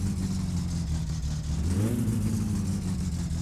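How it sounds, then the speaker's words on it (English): A car engine in the game My Summer Car is revved while warming up, a steady low drone that swells in pitch midway and holds, with no talk. "Right, so I'm revving it now just to see if it'll warm up."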